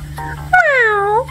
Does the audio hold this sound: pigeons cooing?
no